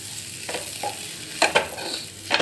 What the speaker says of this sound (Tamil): மசாலா கூட நல்லா மிக்ஸ் ஆகி வர்ற வரைக்கும் நல்லா நம்ம பரட்டணும்.